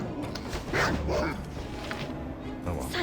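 War dogs guarding a warehouse bark and yip close by in a loud, dense burst, with bits of other sound mixed in.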